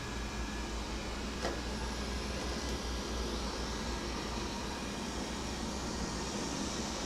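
A Xiaomi S1 robotic vacuum cleaner running indoors, giving a steady, even whirring hum with no breaks, fairly close and alone.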